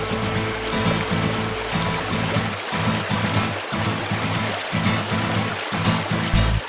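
Steady rushing river water flows continuously, washing evenly throughout while music plays along with it.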